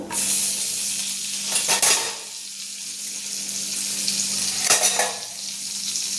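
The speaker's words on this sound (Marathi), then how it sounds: "थोडं 2 पळी तेल पण टाकून घेऊ। त्याच्यात आपली ही मिरची टाकू।" Chilies drop into a couple of ladles of hot oil and fry with a steady, loud crackling hiss, broken by two short bursts of louder spatter and stirring, close by and with no one talking.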